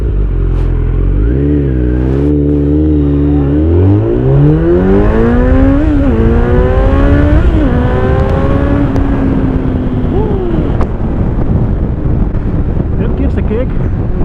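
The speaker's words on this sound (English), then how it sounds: "I want to see if I can accelerate it up to 100 for you guys" A Kawasaki Z900 motorcycle with an Akrapovic exhaust accelerates hard, its engine note climbing through several gear changes in rising sweeps, loud and close, with steady wind rush over the microphone.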